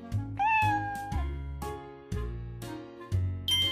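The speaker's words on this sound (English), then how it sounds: "That's a cat." A cartoon cat meows, a drawn-out rising and falling cry heard once clearly over a bouncy children's music backing, with no one talking.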